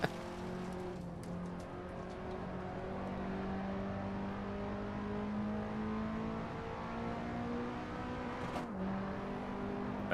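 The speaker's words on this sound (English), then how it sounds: "Bounced off the rev limiter." Peugeot 206 engine in the Assetto Corsa racing game holding a high, steady whine as it bounces off the rev limiter, with a brief dip and surge near the end and no talk.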